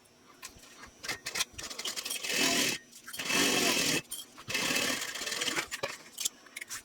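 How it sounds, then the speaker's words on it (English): A domestic sewing machine stitches across the top of a piece with a quarter-inch seam allowance, running in three steady bursts of whirring needle motion separated by short pauses, close and clear with no talk. "So I'm going to sew across the top using a 1/4 inch seam allowance."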